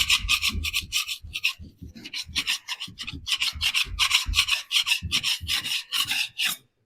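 A metal trowel rubs back and forth over a painted wall in quick, rhythmic rasping strokes, close and alone, each pass a short scraping burst with brief pauses between.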